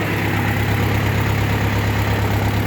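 A Forte 404 mini tractor's engine idles with a loud, steady, close-up rumble and a deep even drone that holds without change.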